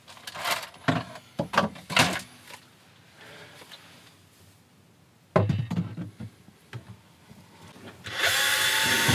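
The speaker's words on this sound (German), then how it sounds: "ich wollte bohren" Close bursts of knocking and handling noise lead into a loud electric drill whirring steadily as it bores into an Amel sailboat hull, with no talking.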